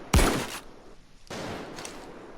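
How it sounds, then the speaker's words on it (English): Kel Tec KSG pump-action shotgun in Payday 2 firing two booming shots, each followed by a short fading tail, with a brief mechanical pause between them. "let me just do a couple shots"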